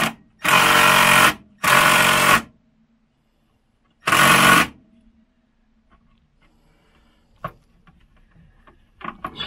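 A power tool backs bolts out of a refrigerator compressor during a compressor swap, giving three loud buzzing bursts of about a second each, followed by quieter clinks and handling noise.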